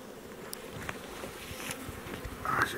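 Honey bees hum steadily around an opened beehive in spring, a continuous close buzzing with small thumps of handling and one louder bee passing near the end.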